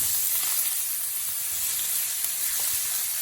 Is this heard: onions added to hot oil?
yes